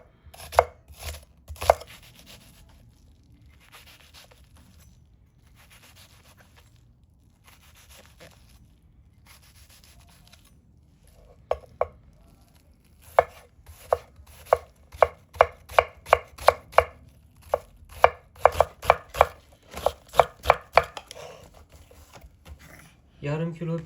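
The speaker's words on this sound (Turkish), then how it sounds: "küçük küçük küp küp doğramamız lazım." Onion diced into small cubes with a knife on a board for zucchini dolma, quiet at first, then a fast run of crisp chopping taps growing denser toward the end, with a voice speaking in between.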